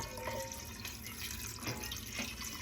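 Water is poured steadily into a pot over dry pasta, a continuous close splashing and gurgling fill with no voices.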